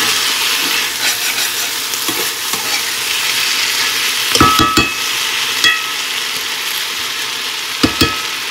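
Spices and chillies sizzle loudly in hot oil with a continuous hiss, broken by sharp clatters and scrapes of a utensil against the pan at irregular moments.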